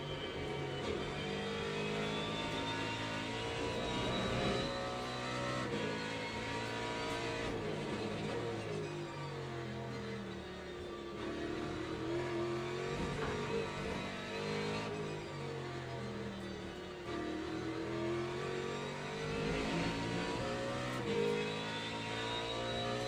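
Ferrari GT3 race car engine in the Le Mans Ultimate racing game, a steady loud drone of revving and shifting engine tones that rise and fall continuously through the clip, with other cars around.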